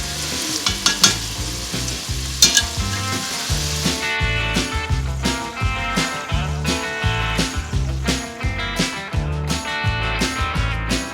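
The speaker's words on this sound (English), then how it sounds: "Render down the bacon until it gets just starts getting crispy." Bacon renders and fries in a pot for Texas chili, giving a loud, close, continuous sizzle and spatter with regular low thumps and pulses running underneath throughout.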